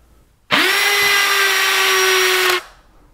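A power drill whirs loudly at a steady high pitch for about two seconds, then spins down and stops, alone in near silence.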